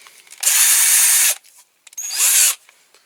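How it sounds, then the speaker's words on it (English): A power drill spins a small part from a restored Lesney Matchbox No.4 Dodge Stake Truck in two loud, close bursts of about a second each, with a short quiet gap between them. "Put one end in the drill"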